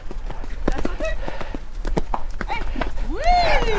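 Horse hooves clip-clop in quick, uneven strikes during a groundwork and liberty training session with a playful horse that loves to jump, accompanied by a brief whinny near the end.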